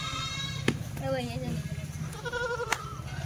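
Kathiawadi goats bleat several times nearby, short wavering calls rising over people talking in the background.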